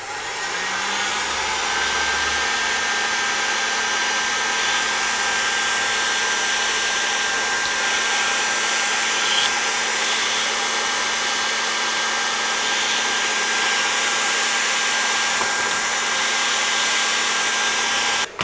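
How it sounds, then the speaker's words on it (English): A heat gun blows steadily and loudly throughout while warming the circuit board of a Fender Blues Junior amplifier, a continuous airy roar with a faint whine and no pauses. "So I'm going to use my heat gun."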